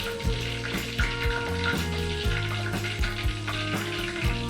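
Oil heats in a pan for brinjal curry, giving a steady close sizzle and crackle under continuous background music.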